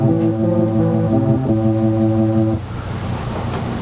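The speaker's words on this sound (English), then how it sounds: "So, here is our organ sound." A synthesizer organ patch from a Koma Elektronik Field Kit holds a steady, buzzy sustained chord for a couple of seconds, then cuts out, leaving a hissy noisy tail.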